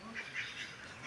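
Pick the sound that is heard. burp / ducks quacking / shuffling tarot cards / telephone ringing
ducks quacking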